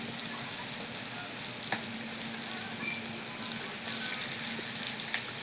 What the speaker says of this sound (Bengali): পেঁয়াজ কুচিটা হালকা ভেজে নিয়ে তারপরে অন্য মশলা দিব